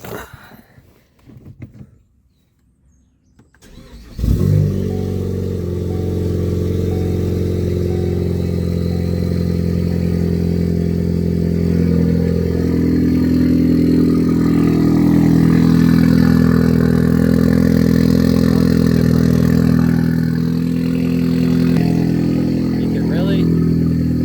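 Turbocharged engine cranking and firing up after upgrades, then settling into a loud, steady idle with occasional revs rising and falling, close to the source.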